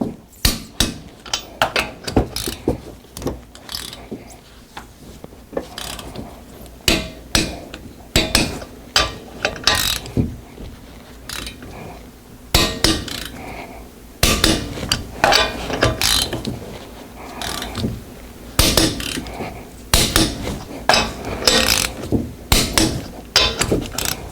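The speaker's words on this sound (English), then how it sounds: "First one is torqued to 80 foot-pound." A torque wrench tightens Honda Accord lug nuts to 80 foot-pounds, giving a long run of rapid, loud ratcheting clicks in bursts with brief pauses between strokes, close by.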